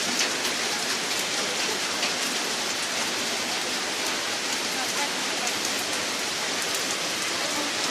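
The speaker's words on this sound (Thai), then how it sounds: "ฝนตกนะครับ" Steady, heavy rain pours down evenly on a morning market in Sainyabuli, a dense hiss of drops on surfaces with no voices, constant and close throughout.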